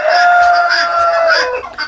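Turkeys, a young bird and an adult kept together, call in a loud, near, continuous run of strained, harmonic cries lasting a couple of seconds before tailing off.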